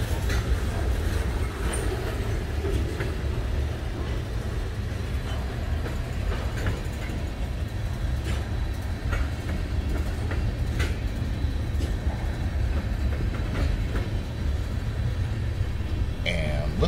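A freight train rolls past on rails in a long, steady rumble with clattering wheel-on-rail clicks and occasional metallic squeals, loud and close for the full duration.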